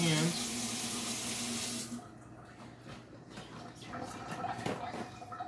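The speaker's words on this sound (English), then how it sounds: "make sure you wash your hands" Running tap water pours into a kitchen sink during hand washing, loud and steady for about two seconds before dropping to quieter splashing and soft handling sounds.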